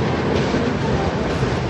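A Humsafar Express train pulls into a railway station with a loud, close, continuous rumble of rolling wheels and carriages.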